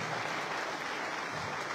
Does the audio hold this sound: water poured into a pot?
no